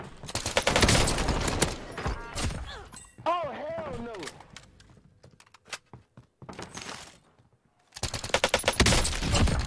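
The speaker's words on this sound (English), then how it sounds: "I'm literally hip firing everyone with this Milano" Hip-fired Milano gunfire in a shooter game: rapid automatic bursts crackle loudly at the start and again near the end, separated by quieter stretches of game sound and a brief voice.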